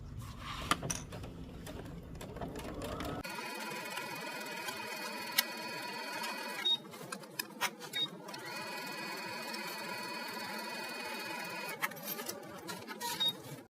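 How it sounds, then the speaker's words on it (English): A home sewing machine stitches a shirt seam, running in a steady whirring, rattling drone with brief pauses and restarts, close and alone without talk. "Then we'll take it to the machine and we'll stitch the seam"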